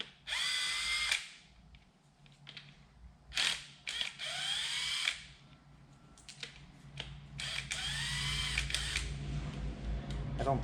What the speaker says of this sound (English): so I'm going to take the oil pump out. It's for 12mm bolts, and then it comes right out